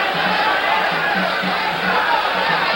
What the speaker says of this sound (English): The crowd responds to Escalera's resurgence in the last 2 rounds with cheering, concerted cheering